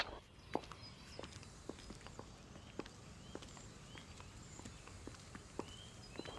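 Quiet footsteps of passers-by on an outdoor footpath, regular crisp taps spread across a low, continuous street background.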